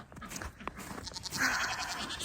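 Goats on a farm bleat softly at a modest distance, a wavering cry rising partway through over low background rustle and breathing.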